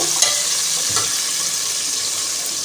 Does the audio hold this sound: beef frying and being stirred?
yes